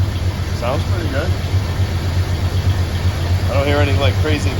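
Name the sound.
farm truck engine idling after exhaust work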